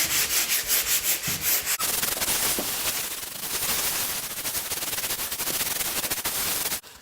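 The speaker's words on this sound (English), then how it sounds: "Once your plaster's dried, get some 240 grit sandpaper. So we want to get all these rough parts off around it and make it nice and smooth." Dried ceiling plaster being sanded by hand with 240 grit sandpaper, steady rough scratchy rubbing strokes, close and continuous.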